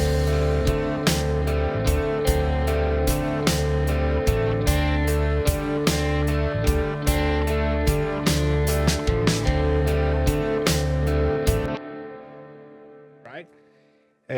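Punk-rock band mix of drums, bass and guitars run through an Altiverb Super Reverb Amp impulse-response reverb: loud driving chords and steady drum hits that stop abruptly, leaving a long fading reverb tail.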